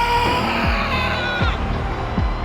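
A loud, dense crowd roars and cheers continuously at an NFL draft as the Cincinnati Bengals make their pick, with whoops rising above the steady wall of noise.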